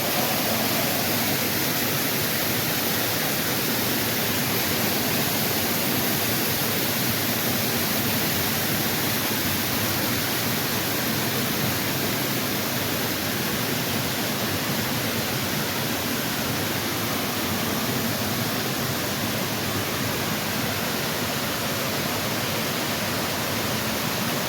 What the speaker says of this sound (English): Just made it up here to the falls.